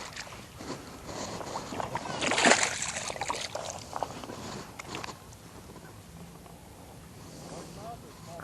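A small hooked smallmouth bass thrashing at the surface beside a boat, with splashes and sloshing water peaking midway, while someone talks over it.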